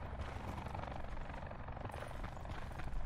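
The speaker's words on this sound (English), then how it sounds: "Helicopters flying fucking everywhere." Helicopters in the Call of Duty: Blackout battle royale keep up a dense, steady rotor roar, a constant churning drone with faint fast blade chop and no voices over it.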